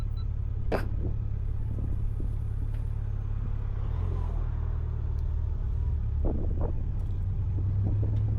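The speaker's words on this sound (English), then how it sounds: "Well, an old Corvette." An old Corvette car driving behind a motorcycle on a French Champagne tourist route, a low engine rumble under steady road and wind noise, swelling briefly as it revs.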